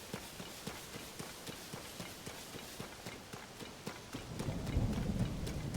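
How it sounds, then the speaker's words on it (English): Rain falls steadily in a stormy scene from the Zelda: Tears of the Kingdom video game, joined by a rhythmic clip-clop of hooves and a low rumble of thunder that swells near the end. "I feel bad bringing Peanut out in this rain"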